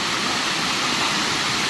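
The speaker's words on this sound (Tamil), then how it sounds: "போகிற வழியில் தண்ணி ஓடுற இடம் இருக்குது." Water rushing down like a waterfall at a spot along a path near Kodaikanal, a loud, steady broadband roar of flowing water filling the whole moment with no voices.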